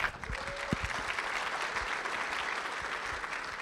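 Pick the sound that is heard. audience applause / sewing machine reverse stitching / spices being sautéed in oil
audience applause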